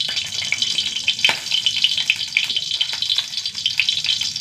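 Hot coconut oil and ghee sizzle briskly in a pan, a close, loud, continuous hiss with frequent sharp crackles and spits, no voices.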